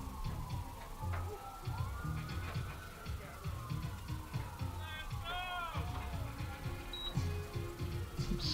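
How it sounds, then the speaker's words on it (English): Distant sirens wail faintly near an elevated I-5 freeway beside a baseball game between Everett and Bellevue, with rising and falling tones and a few chirps over steady traffic rumble and crowd noise. "Some sirens off in the distance."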